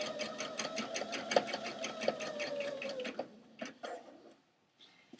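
A home sewing machine stitching along a seam in jeans, running in a fast, steady mechanical chatter for about three seconds, then stopping, followed by a few scattered clicks and handling taps.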